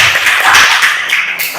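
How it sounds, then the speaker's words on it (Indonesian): Children in a primary-school classroom clap together in a loud, close burst of sharp slaps with a short rhythmic pattern, then the claps thin out and fade. "Oke, tepuk tangan untuk kita semua."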